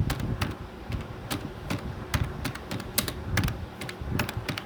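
Rapid clicking keystrokes on a computer keyboard, close and irregular with bursts of several keys and brief pauses, continuing for several seconds without talk.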